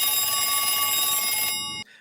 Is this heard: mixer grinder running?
no